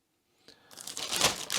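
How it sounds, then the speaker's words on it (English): A see-through plastic bag draped over a Sigma fp L camera is handled close up, crinkling and rustling in a growing, continuous scrunch that gets louder toward the end. "It's a see-through plastic bag."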